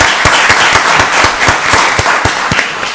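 Applause at a Rockdale County Board of Commissioners meeting for the county director, with loud, close rhythmic claps standing out over a wash of clapping from the room.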